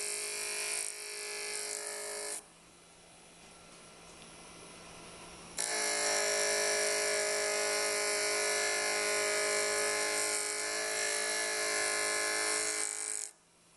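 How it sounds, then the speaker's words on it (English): A corundum gemstone cross-ground on a small powered jewelry grinder to remove file marks, a steady close electric whine and buzz that drops to a lower hum for a few seconds midway, then resumes before cutting off. "So if I was grinding in this direction, I'll grind like this so I can remove some of those file marks."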